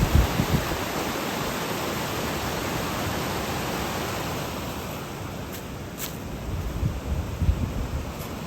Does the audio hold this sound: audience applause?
no